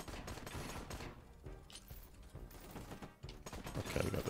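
Turrets fire in the game Bartlow's Dread Machine, a dense continuous clatter of rapid mechanical gunfire that runs throughout, loud and busy with layered shots and metallic rattling.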